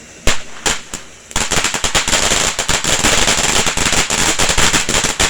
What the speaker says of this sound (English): Apache Fire Dance Fountain.